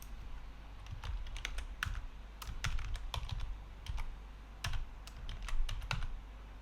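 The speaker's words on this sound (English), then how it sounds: "Let's type puts hello Tcl." Typing on a computer keyboard to enter a short print command in a Tcl shell: steady, close-up clicking of keys with irregular bursts and brief pauses, no talking.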